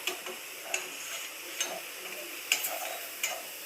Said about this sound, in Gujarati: એકદમ સરસ આપણા તળીને એકદમ બ્રાઉન થઈ ગયા છે